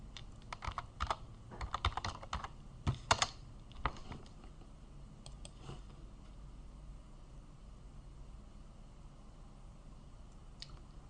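Quiet clicking of computer keyboard keys, tapped in quick clusters for the first few seconds, then a few scattered keystrokes over a faint steady hiss.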